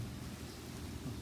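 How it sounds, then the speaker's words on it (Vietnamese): Steady rain pours with a low rumble of thunder underneath, a continuous dense hiss without clear breaks and no voices, over a short stretch. "mưa tới"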